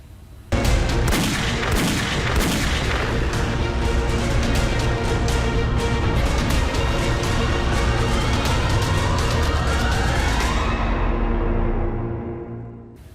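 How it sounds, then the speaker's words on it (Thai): Rapid, overlapping gunfire from many weapons at an ASEAN army tactical shooting competition crackles almost nonstop for about ten seconds, then trails off into fading echoes. "วันที่ 2 ของการทดสอบยิงปืนทางยุทธวิธีกองทัพบกกลุ่มประเทศอาเซียน ครั้งที่ 31"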